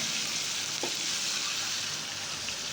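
Cumin seeds (jeera) sizzle and fry in hot oil for a Manipuri vegetarian dish, a steady close crackling hiss that runs unbroken with a brief stir partway through.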